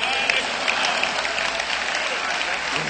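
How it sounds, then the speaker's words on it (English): A large crowd applauds continuously at a Million Man March anniversary gathering, dense sustained clapping filling the space at steady loudness without a break. "Keep the applause going."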